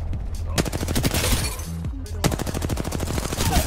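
Rapid gunfire from an Apex Legends match during a CR Cup team fight, dense automatic bursts near and loud with a short pause midway, layered with in-game effects and voice chat.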